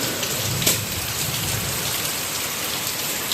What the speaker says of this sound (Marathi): जाम पाऊस आहे बेकार